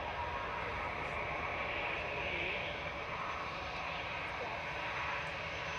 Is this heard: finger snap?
no